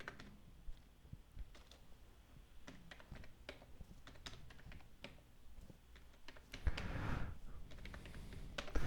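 Computer keyboard keys tapped in quick irregular bursts, numbers entered on the numeric keypad during data entry, close and moderately loud with a few heavier clacks near the end.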